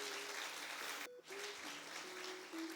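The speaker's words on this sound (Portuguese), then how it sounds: "Uma salva de palmas bem calorosa para os nossos visitantes." Steady applause from a church congregation welcoming visitors during a Sunday evening service, a broad even wash of clapping that dips briefly midway, with a faint tone sustained underneath.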